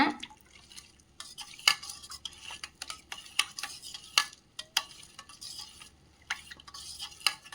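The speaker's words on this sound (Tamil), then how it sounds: "இப்போ இதை நல்லா கலந்து விடுங்க." A spoon stirs panakam, a traditional sweet drink with lemon juice squeezed in, clinking repeatedly against the vessel in an irregular rhythm of sharp taps, close and fairly quiet with no talking.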